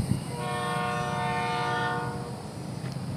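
Florida East Coast freight train 105 led by 700-series locomotives passing a junction at dusk, sounding a sustained high-pitched chime horn over the rumble of the train, fairly close and loud.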